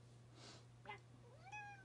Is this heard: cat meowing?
yes